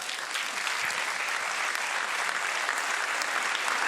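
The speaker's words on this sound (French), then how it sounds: "Applaudissements pour celui que vous connaissez tous, athlète Abdel Taïs" An audience applauds for athlete Abdel Taïs at a Sarreguemines sports gathering, steady broadband clapping from a crowd, sustained and even at moderate distance with no voices.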